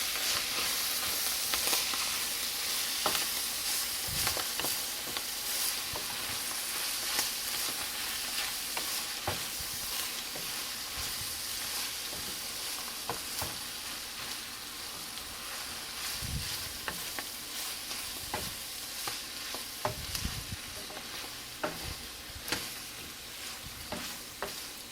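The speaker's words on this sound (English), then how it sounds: "That grease cooks down pretty quick though, once I added the vegetables in there." Meat and vegetables fry in grease in a pan, a steady close sizzle with irregular scraping and stirring clatters throughout, no voices.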